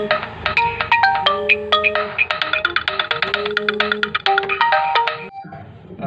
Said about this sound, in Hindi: फ़ोन आ गया था मेरा बीच में